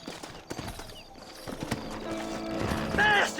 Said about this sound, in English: Horses are over here!